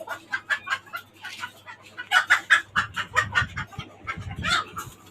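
Chickens of local and foreign breeds kept in a rooftop cage cluck in rapid, uneven bursts at close range, a busy run of clucks and squawks with little pause.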